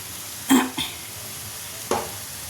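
A spoon stirs sugar and ghee into food in a pan, with three brief scraping clatters spaced over a couple of seconds above a faint quiet background.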